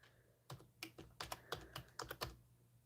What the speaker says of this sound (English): I have to type in a title